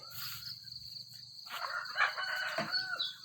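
A rooster crows in the distance over a steady insect-like background buzz, with a couple of louder crowing bursts later on.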